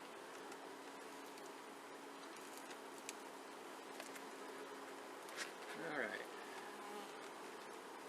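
A steady, dense buzzing of many bees around an open hive during an inspection fills the air, with a few louder passes as individual bees fly close by.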